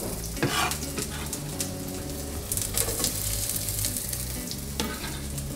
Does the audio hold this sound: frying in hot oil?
yes